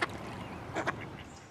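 Wild mallard duck quacking outdoors, a couple of short nasal quacks standing out around the middle over a steady hiss of background noise.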